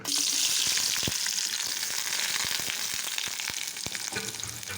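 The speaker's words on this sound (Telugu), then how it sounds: "ఇంకో స్టవ్ మీద ఆనియన్ ఫ్రై చేసుకుందాం." Constant bright sizzle of onions frying in a pan, with scattered stirring taps throughout.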